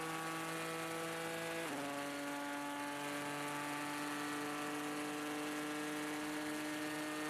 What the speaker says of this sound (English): the V6 turbocharged Ford EcoBoost engine sounds absolutely amazing